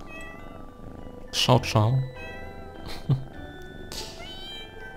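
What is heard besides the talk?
cat meowing in the video game Pocket Mirror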